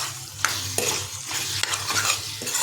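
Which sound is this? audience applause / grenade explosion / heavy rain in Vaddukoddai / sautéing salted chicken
sautéing salted chicken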